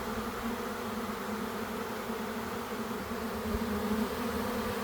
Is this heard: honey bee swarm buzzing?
yes